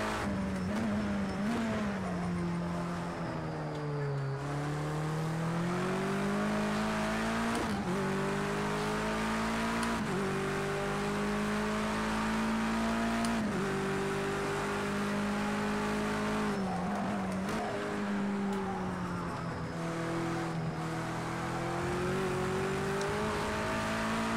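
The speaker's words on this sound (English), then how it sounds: "I'm currently driving the BMW 320 TC." Sustained BMW 320 TC race car engine from a racing video game, droning loudly with repeated revving rises and gear-shift drops, plus occasional tire squeal, with no talking.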